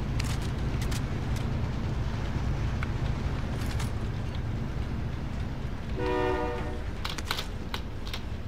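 A train in a battle royale video game rumbles steadily, joined by a short horn blast, with clicky keyboard typing tapping along over it.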